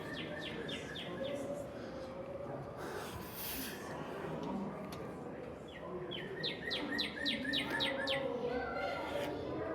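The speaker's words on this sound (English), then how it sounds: "We are here at Murray's favorite bird, the cardinal" A northern cardinal sings two bursts of rapid, repeated clear whistled notes, separated by a pause, over soft breathing and handling noise close by.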